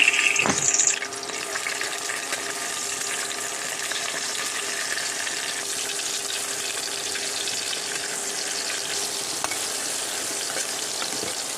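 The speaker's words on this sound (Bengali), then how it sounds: "গোল গোল করে আলু ভাজা বেগুন ভাজা" Round slices of potato and eggplant fry in a pan of oil, giving a steady, dense sizzle and crackle close by, with a brief clatter at the start and no talking.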